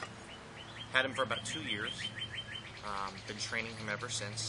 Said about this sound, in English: There's a lot of birds out today